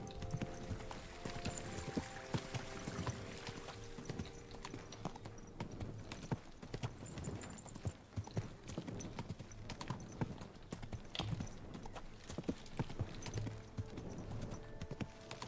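Horse hooves clip-clop at a steady walking rhythm in Kingdom Come Deliverance 2, close and continuous over an ambient game soundscape with faint background music.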